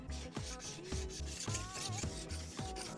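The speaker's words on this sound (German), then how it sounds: "Jetzt schleifen wir händisch belagseitig noch 1 Grad weg." Rhythmic rasping strokes of a hand file scraping along a ski's metal edge on the base side, close up, about five steady back-and-forth passes with no talking.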